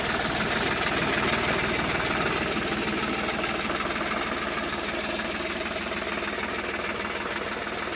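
A New Holland 3630 tractor engine idles steadily up close, a dense even diesel rumble with fine rapid knocking pulses that holds unchanged throughout, with no talking.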